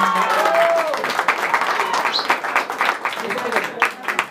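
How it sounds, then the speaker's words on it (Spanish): Guests applaud at a quinceañera with a youth mariachi band, a mix of clapping and crowd noise that thins into scattered claps, with a short tonal sound near the start. "aplauso para ella"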